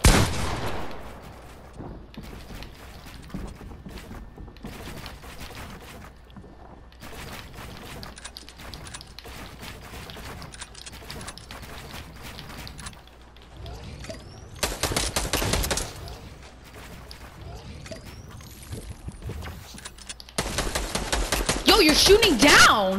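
Fortnite gunfire, long stretches of rapid clicking shots and bursts with two louder, denser volleys later on, mixed with game mechanisms and a voice talking over it.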